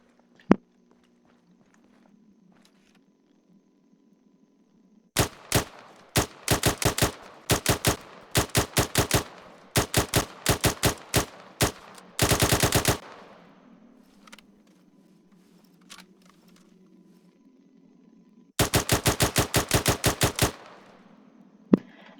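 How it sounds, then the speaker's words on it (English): Bursts of L22A2 rifle fire in Arma 3: several rapid volleys of sharp, crisp shots, then a long sustained automatic stretch near the end, loud and close, with quiet gaps between strings and no talking. "have a look at, and fire the L22A2 now"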